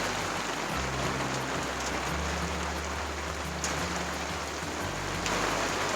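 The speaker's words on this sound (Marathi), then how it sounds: "पावसाने देखील हजेरी लावल्या" Steady rain falls during a Konkan outing, an even wash of patter with a low droning hum running beneath it throughout.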